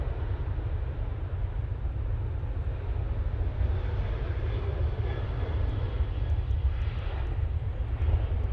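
An airliner touching down on runway 05 right at Manchester Airport, a steady, loud engine roar with deep low rumble holding throughout, heard from a distance with no talk.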